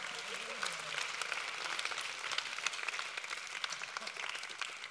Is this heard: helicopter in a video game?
no